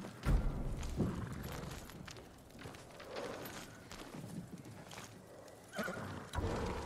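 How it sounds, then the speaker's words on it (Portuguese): Samurai horses in the Ghost of Tsushima Director's Cut video game, heard as several near neighs and whinnies with some hoof thumps and clip-clop. The sound is moderately loud, with no talk over it. "São cavalos de samurai."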